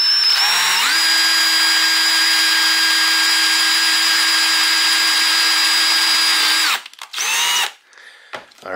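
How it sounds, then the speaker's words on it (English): Power drill boring holes through a razor blade, a loud steady high whine that spins up, holds evenly for about six seconds, then winds down, followed by a few brief bursts of drilling. "I'm going to drill two holes in there so I can screw it down to the wood later."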